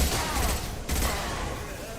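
Dense bursts of video game gunfire and explosions, loud and continuous over two seconds with a brief break in the middle, and a voice faintly underneath.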